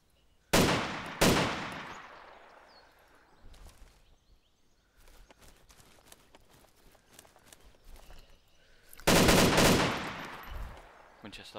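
Winchester rifle shots in the DayZ video game, two loud sharp cracks close together early on, then a stretch of quieter shuffling movement before a third heavy blast near the end.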